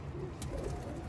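Low, soft cooing of pigeons close by, a brief murmuring burble over faint background noise.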